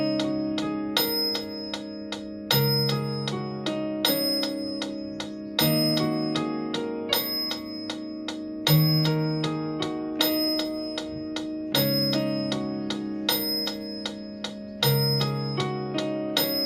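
Piano notes running up and down in quick, even steps, a steady scale pattern repeated over and over at a brisk tempo, with no talking.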